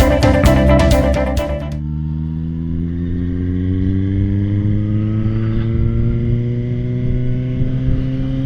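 A Suzuki GSX-S750 motorcycle engine is heard with a brief burst of high rapid pulsing at the start, then a steady, loud cruising drone with smoothly rising pitch as the bike accelerates through a gear on a ride.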